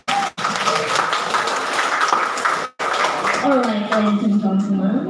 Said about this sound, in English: Give a clap for us.